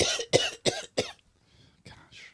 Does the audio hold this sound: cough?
yes